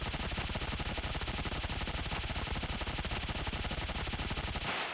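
Beretta ARX160 rifle with silencer and extended 60-round magazine firing full-auto in the video game Ravenfield, a rapid, steady burst of shots that continues without pause and cuts off abruptly at the end.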